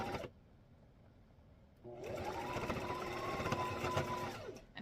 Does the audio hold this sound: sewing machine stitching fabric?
yes